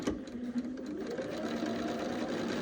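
Sewing machine stitching a double seam through quilt fabric, a steady close mechanical whirring hum that starts after a few light clicks and runs evenly to the end.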